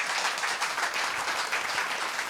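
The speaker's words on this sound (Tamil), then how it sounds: "நீங்கள் இப்போ தான் கைத்தட்டணும்." Audience applause at a Tamil children's speech competition, a dense, steady wash of many hands clapping at once, loud and continuous throughout with no talk over it.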